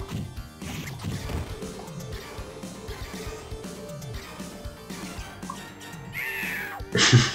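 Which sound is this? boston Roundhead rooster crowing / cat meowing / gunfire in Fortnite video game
cat meowing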